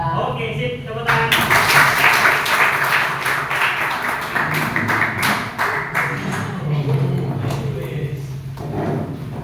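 Students clap their hands together in a school classroom, a burst of fairly close clapping that starts abruptly and carries on for several seconds before tapering off, with some talking mixed in.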